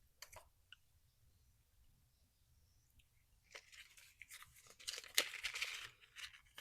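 A sticker is peeled off a seed packet: faint crinkles and small ticks at first, then a louder run of crackling, tearing paper and plastic sounds close by, with no talking.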